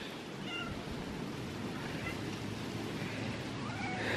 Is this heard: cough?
no